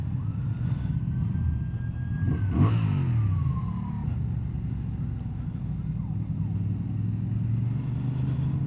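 A Honda Transalp 750 motorcycle engine hums steadily while riding in traffic, a constant low drone with wind noise, brief rising tones from passing vehicles, and no talk.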